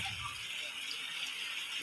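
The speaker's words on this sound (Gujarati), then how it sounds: "પાણી હવે ચાલુ જ છે પાણી જો બધા લોકો નાય છે જો કેટલો વરસાદ છે અમારા ગામમાં" Rainwater rushes through a village during heavy monsoon rain, making a steady, unbroken hiss and gush close by.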